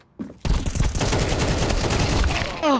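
Rapid video-game gunfire, a loud, sustained burst of bullets after a brief quiet start, with a short vocal sound just before and a voice near the end.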